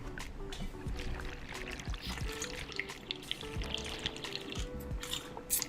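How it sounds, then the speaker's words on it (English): Water sloshes and trickles close by as a surfer drinks from a bottle while paddling out, a series of irregular gulps and splashes with faint wind and water movement around it. "If you keep hearing this water, that is me drinking water"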